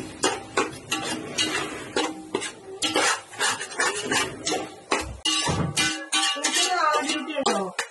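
Spoon mixing masala for a Malabar coconut milk chicken curry in a pot, with brisk clinks and scrapes against the metal in quick irregular strokes, close up, briefly quiet near the end, with no talking.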